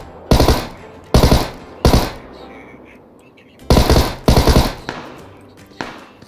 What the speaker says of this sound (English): Where them shots coming from